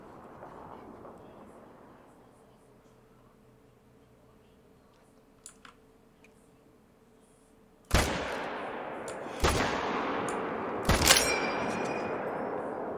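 Quiet ambience gives way to three sharp, loud rifle shots in the hunting video game theHunter: Call of the Wild, spaced a second or so apart, each ringing out with a decaying echo.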